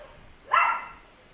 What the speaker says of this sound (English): My dog wasn't barking before I did the video